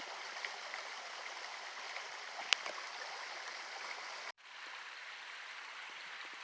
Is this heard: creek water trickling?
yes